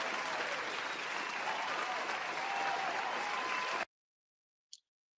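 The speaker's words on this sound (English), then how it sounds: "Let's give her a round of applause." A studio audience on a call-in talk show gives a panelist a round of applause. The clapping is dense and steady, then cuts off abruptly after about four seconds, leaving silence and one tiny click.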